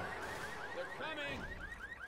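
Car alarm going off in the video game Left 4 Dead: a repeating, warbling electronic tone that chirps up and down in a steady rapid rhythm, moderately loud and continuous, with no talking.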